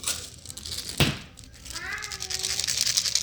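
A house cat lets out a clear, rising meow as food is carried past, one drawn-out call over a background of rustling and faint voices.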